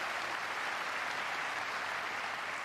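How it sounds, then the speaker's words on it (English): Audience at the 1997 Eurovision Song Contest applauding in a steady, dense burst of many hands clapping, moderately loud and uninterrupted, with no voices over it. "A lot of applauding in today"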